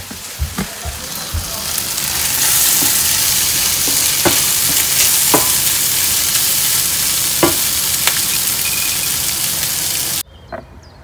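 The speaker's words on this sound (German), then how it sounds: "ich gehe mich mal eben ums Rührei kümmern" Scrambled eggs fry steadily in a pan with a loud, continuous broadband sizzle, broken by occasional clicks and scrapes of stirring, before cutting off abruptly near the end.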